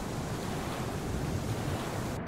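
A steady, dense rush of falling water from a waterfall in the dark caves of the game Gloomwood, a constant broadband roar heard alone with no voices.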